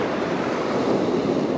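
Turbulent ocean surf washes steadily onto a beach, a continuous broadband rush of breaking water with some wind noise on the microphone and no voices.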